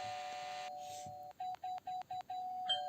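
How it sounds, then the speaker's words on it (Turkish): An electronic doorbell chime in a Roblox video game over a low background hum, then a series of five short, evenly spaced beeps. "Hemen zili çalalım da."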